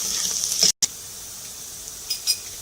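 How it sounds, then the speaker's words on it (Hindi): Onions browning in a pan for a mutton paya dish, a soft steady sizzle with a brief cutout and a couple of light clinks of a utensil against the pan. "प्याज हमारे ब्राउन हो रहे हैं, बस थोड़ी देर और हमने ब्राउन करने हैं"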